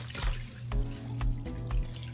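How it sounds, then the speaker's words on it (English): Drain water from a Giantex portable mini compact washing machine hose splashes and trickles close by in uneven spurts, with faint dripping and no talk. "What I am gonna do is drain it and see how dirty the water is when I drain it out."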